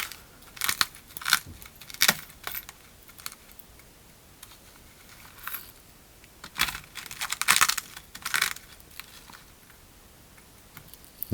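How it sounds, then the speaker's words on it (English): Confetti glass shaken in a small tub to coat a glass piece: irregular clusters of dry clicking, ticking and crinkly rattles, fairly close, with quiet gaps between shakes and no speech. "drop it face down and give it a good shake to get it evenly coated."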